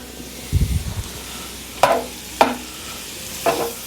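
Shrimp seasoned with Old Bay and lemon are turned in a hot pan for a New England shrimp roll: a low rumbling scrape, then three sharp separate clinks of tongs against the pan over a faint sizzle, close by with no talking.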